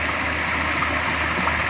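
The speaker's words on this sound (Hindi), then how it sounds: "यहाँ पर जहाँ से पानी निकल रहा है, ये पानी जो है ये स्प्रिंकल यहाँ पर लगे हुए हैं जिसमें से पानी निकल रहा है।" Water sprays steadily from sprinklers set up at a village lake in Multan, a continuous close hiss and splash that holds level throughout with no voices.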